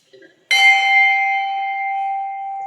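A single bell struck once at a temple in a Narmada pilgrimage setting, rising suddenly and ringing loud and near with a sustained metallic tone that slowly decays.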